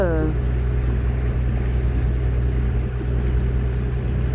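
Boat motor droning steadily and close during a ride across a dam reservoir, a low continuous hum with water and wind noise and no speech.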